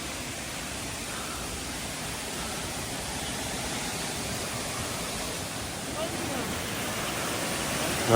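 Rock Garden waterfall in Darjeeling roars as a steady, broad rush of falling water, constant and fairly loud throughout, with no other sounds standing out.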